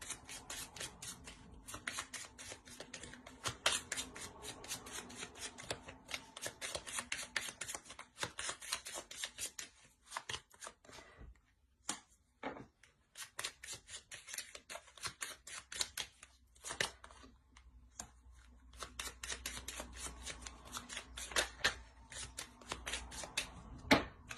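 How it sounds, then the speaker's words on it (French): Tarot cards are handled and drawn, making repeated soft riffling, sliding and slapping sounds in quick bursts, fairly quiet and close, with short pauses between handling. "Je vais juste rajouter une carte, je pense, sur le crâne ici."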